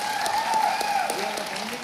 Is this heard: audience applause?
yes